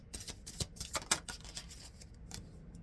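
Rapid papery riffling and flicking of cards, a burst of close, crisp snaps that trails off into a few softer taps.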